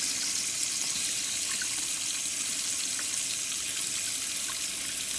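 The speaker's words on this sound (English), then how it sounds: "run plenty of water through the lines to rinse any leftover materials from the tablets out of the system" Water runs through the lines of a Truma system being rinsed after descaling tablets, a steady, even hiss of flowing liquid with faint drips, continuous and moderately quiet throughout.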